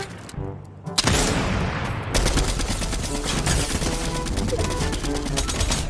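Rapid automatic gunfire from a gun in a video game, a loud, dense stream of sharp shots that starts abruptly after a brief quieter moment and continues without pause.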